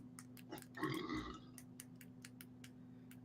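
A single loud burp from a person playing the video game Stray, lasting about half a second, set against a steady low hum and soft clicking ticks.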